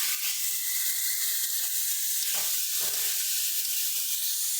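Pre-fried potato, eggplant and beans go into hot spice paste in a kadai, giving a loud, steady sizzle throughout with a couple of brief bumps as the vegetables are stirred, and no voices.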